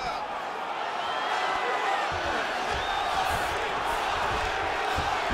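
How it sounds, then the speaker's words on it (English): Roaring arena crowd in the EA Sports UFC 5 fighting game, a steady wash of cheering and whoops that carries the whole time, with speech-like noise mixed in. "The crowd's going crazy because they appreciate high-level mixed martial arts"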